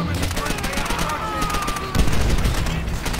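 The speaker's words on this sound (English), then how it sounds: "Ah, another grenade!" Call of Duty: World at War game audio: dense rapid gunfire with a heavier blast near the middle, loud and close, continuous over the short stretch.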